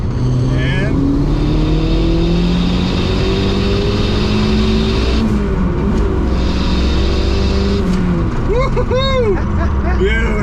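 A V8-swapped 1989 Honda CRX pulling in third gear from around 3,000 RPM, a loud, continuous engine drone rising steadily in pitch inside the cabin, with brief voices near the end.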